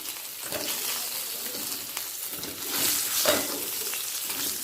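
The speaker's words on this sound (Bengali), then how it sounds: "মাছটা আমি দুবারে ভেজে নেব" Bhetki fish pieces fry in mustard oil, a close, steady sizzle with light crackling that swells briefly, with no talking.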